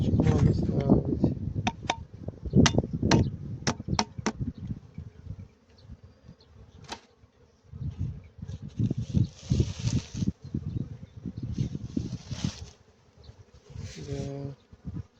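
Honeybees buzz steadily at an apiary, a close, continuous hum that runs throughout, with intermittent talk and handling noises in the first seconds and near the end.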